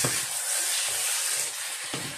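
Rice with pork ribs, sausages and loin frying in a pan, a steady bright sizzle with faint scrapes of a spoon stirring through it, close and continuous without talk.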